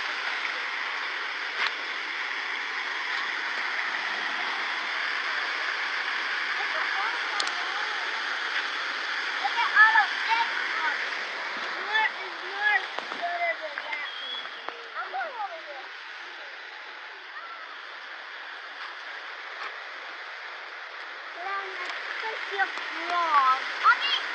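Lake overflow water runs down into a small stream, making a steady, moderately close rushing and splashing wash that continues unbroken throughout.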